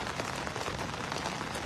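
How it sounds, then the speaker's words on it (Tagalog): Heavy rain pouring onto surfaces, a dense, steady patter and wash with no let-up, moderately loud and continuous throughout. "Malakas yung ulan dito mga idol."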